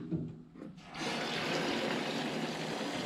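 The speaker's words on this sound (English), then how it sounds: "Then you fill the rest with water." Tap water pours steadily into a coolant bottle while a 50-50 antifreeze mix is topped up during a radiator job on a 2002-2009 Dodge Cummins, a close, continuous rushing splash after a brief quieter start.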